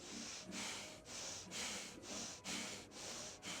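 Rapid ujjayi breathing through soft lips comes as a close, steady series of breathy, rasping inhales and exhales, about two per second, with no voice over it.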